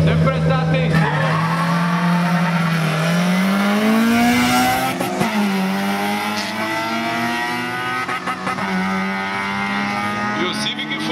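A Honda Civic VTEC race car at a drag racing event in Guaporé revs and accelerates with a rising engine whine, loud and near, while people talk over it.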